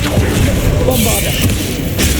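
Bombarda blasting spell in Hogwarts Legacy: a loud, dense boom fills the short moment, a broad crashing burst that stays heavy throughout.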